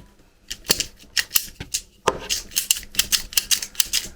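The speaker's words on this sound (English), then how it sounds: "let's cut another piece off." Sharp clicks and snips come from cutting a piece off an old, wet coax cable, a series of close, irregular crunching cuts that grow quicker toward the end.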